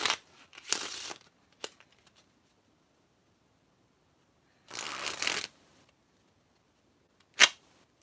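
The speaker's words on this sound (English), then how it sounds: "And we give the cards a shuffle." Playing cards are shuffled in short riffling bursts, close and crisp, separated by quiet pauses, with a final quick snap near the end.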